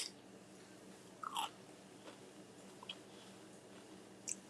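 Someone bites into a crunchy baked cheese crisp, giving a few faint, sharp crackles and crunches spaced apart, heard close and quiet with no talking.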